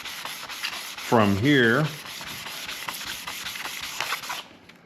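Sanding a machined four-post thickness planer column by hand with 600-grit abrasive, a steady soft rubbing hiss running throughout, with a brief voice passing over it partway through.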